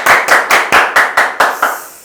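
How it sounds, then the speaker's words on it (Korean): Eight evenly spaced, sharp claps ring out close and loud in a steady rhythm at a Korean political youth debate forum, each crack decaying quickly before the next. "네, 박수."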